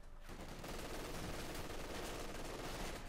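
In a Company of Heroes 2 match, a dense, sustained stream of machine gun fire rattles continuously, with overlapping bursts forming one rough, unbroken wall of battle noise. It is quiet overall, with no voices.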